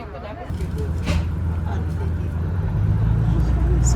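A BRT bus pulls away from a station with a deep engine rumble that swells as it moves off, heard from inside the cabin, with someone speaking over it.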